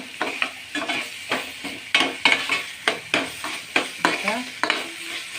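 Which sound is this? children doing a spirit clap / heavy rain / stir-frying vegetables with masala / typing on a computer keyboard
stir-frying vegetables with masala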